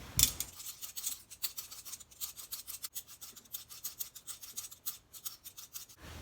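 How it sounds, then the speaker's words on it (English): White radish and carrot are peeled by hand in a home kitchen, giving a run of quick, faint rasping scrapes in a steady rhythm, close and quiet with no talking. "Next, peel white radish and carrot."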